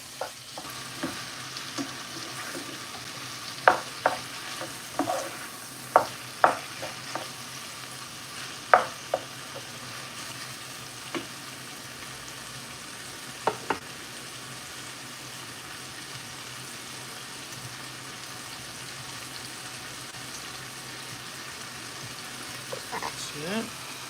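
Cowboy beans being stirred in a pan with a spoon, giving a string of scraping and clinking strokes over a soft steady sizzle, close up, with no voices.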